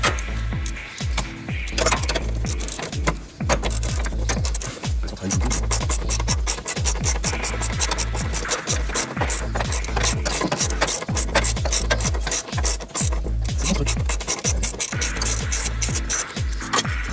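Small bolt and cable being unscrewed on a John Deere during a restoration, steady rapid ratcheting and scraping metal clicks close to the mic, continuous for the whole stretch.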